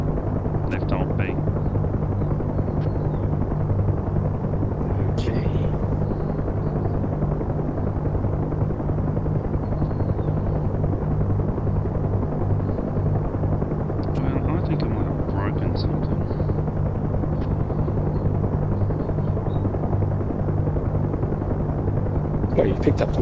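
UH-1 Huey helicopter in the DCS flight simulator game, a steady, continuous rotor and turbine drone throughout, with occasional voices talking over it.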